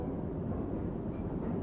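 Donut factory machinery in Farming Simulator 22 runs with a steady, dense, low mechanical drone and rumble. The sound is continuous and even, with no talk over it.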